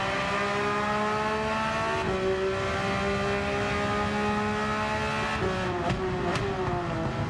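Porsche race car engine in Gran Turismo 7 drones loudly and steadily throughout, holding a high harmonic whine with brief pitch shifts as it shifts gears and revs, with no talk over it.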